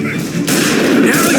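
Gunfire from the video game Mafia: Definitive Edition hits as a loud, dense burst of blasts. A sharp jump in intensity midway is followed by sustained rumbling noise, and shouting voices seem mixed in.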